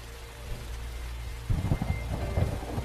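Heavy rain falls at night with thunder rumbling: a steady low roar that swells partway through into louder, rolling crackles, with no voices.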